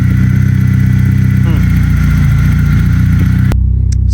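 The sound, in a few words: M42 car engine idling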